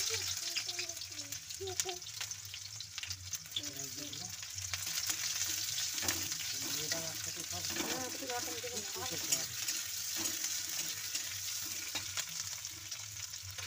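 Onions fry in a pan for a spicy chicken curry. A steady sizzle runs under stirring strokes while a person talks over the cooking.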